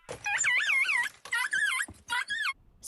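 High, wavering whimpers and whines from puppies, several quavering cries in short bursts separated by brief pauses, fairly close.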